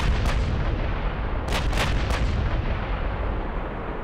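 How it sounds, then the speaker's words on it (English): Naval battleship guns boom in the Ultimate Admiral: Dreadnoughts game, with 16-inch and 18-inch shells being fired: a loud, continuous rumble broken by several heavy blasts in quick succession near the middle. "There's 8 incoming shells, which have a decent chance to hit me."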